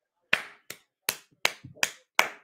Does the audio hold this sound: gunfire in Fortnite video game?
no